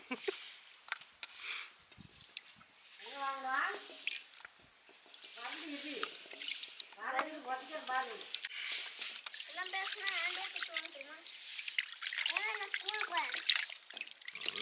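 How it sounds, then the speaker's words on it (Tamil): Running water trickles and splashes steadily while a person talks over it, with occasional sloshing as fish is rinsed outdoors at a farmhouse. "நல்ல தண்ணியில் சல சல சலன்னு ஓடுற தண்ணியில் கழுவணும்"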